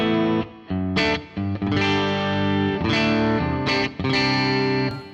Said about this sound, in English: let's bring up the global amount of the reverb.